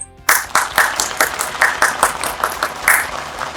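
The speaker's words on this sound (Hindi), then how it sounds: "आपकी तालियों में तशरीफ लाते हैं खुदावंद के ममसूब बिशप जोनाथन रहमत" An audience applauding the arrival of Bishop Jonathan Rehmat, a fairly small group clapping loudly and close, with a rhythmic beat of claps that starts abruptly and carries on steadily.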